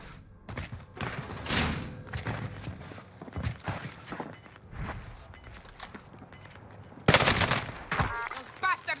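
Video game gunfire in a Warzone match on Rebirth Island, with bursts of automatic fire and sharp shots at varying distances through the clip, a loud close burst near the end.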